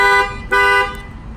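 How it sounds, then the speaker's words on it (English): A loud electronic car alarm, a Clifford 3105X, blares in two short tonal bursts separated by a brief gap, close by, followed by quieter background noise. "If you hold the star down, you can fire the alarm off"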